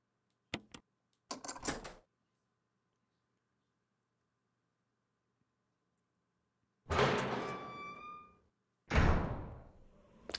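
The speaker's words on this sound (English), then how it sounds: "But we do have to go through this door." Inside a Resident Evil game, a door creaks and thuds open in a few short clunks, followed after a long silence by two louder, longer groaning swings, each ending in a heavy thump.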